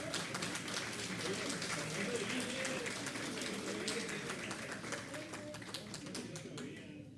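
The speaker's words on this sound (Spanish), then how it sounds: "Fuerte el aplauso, por favor." Audience applause welcoming a lecturer at the opening of a law diploma program, a steady wash of clapping throughout with voices murmuring underneath, fading slightly toward the end.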